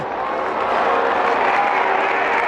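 A large crowd at the Indy 500 on a very hot race day gives a steady wash of cheering and applause, a broad, even roar held throughout at a distance.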